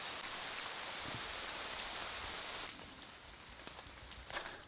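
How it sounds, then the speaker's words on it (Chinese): Steady rain falls on a desert island, a dense even hiss that eases slightly partway through, with scattered louder drips near the end. "这几天都在下雨，随时在下"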